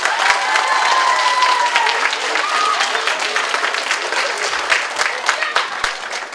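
An audience at a school DARE graduation applauds teachers and principals, full steady clapping with a short whistle and crowd voices, gradually easing toward the end.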